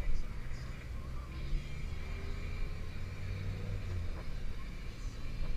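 A V10 wood gas truck engine running rich with the wood gas valves closed, a steady low rumbling idle with a slight uneven throb, close and continuous, with someone talking over it.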